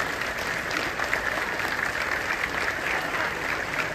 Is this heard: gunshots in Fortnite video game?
no